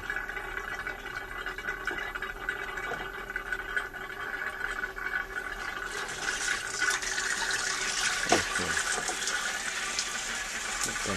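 Water runs steadily from a homemade water heater, a continuous broadband flow that swells louder and rougher partway through, with a few faint clunks underneath and no talking.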